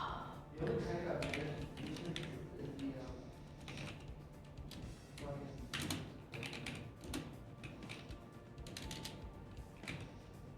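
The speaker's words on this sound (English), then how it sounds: "I cannot type on this freaking keyboard." Someone types on a computer keyboard during a collegiate Marvel Rivals esports match, with rapid irregular key taps close by and a voice talking over them in places.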